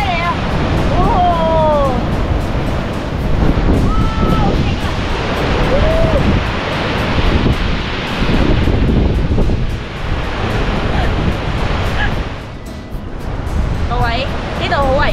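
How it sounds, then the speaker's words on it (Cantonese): Big waves pound a rocky shore at Cape Collinson on Hong Kong Island during heavy wind and rain. The roar of surf is continuous and loud under gusting wind noise while people exclaim nearby. "好大浪啊！"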